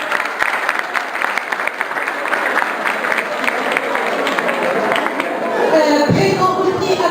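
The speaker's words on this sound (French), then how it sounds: "Applaudissez-la très très fort." A conference audience applauds steadily and loudly for several seconds, the clapping dense and even before it thins out at the end.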